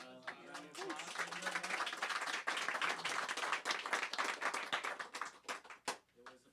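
Scattered clapping from a small audience at a music producer showcase workshop, moderately distant and uneven, with bits of talk mixed in.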